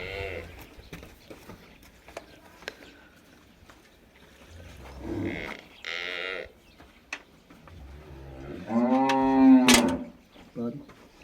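Several Friesian cross cows moo at intervals, with one long, loud low bellow near the end; other farm noises and a few short knocks fill the gaps.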